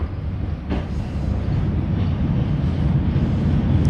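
Inside a moving train car on a ride near Harvard along Massachusetts Avenue in Boston, a steady low rumble and rolling hum fill the space, with faint clanks and no talking.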